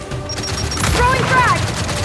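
A frag grenade blast mixed with gunfire in Gears of War 5, a loud rumbling boom with rattling shots and combat effects, with in-game voices calling out over the action.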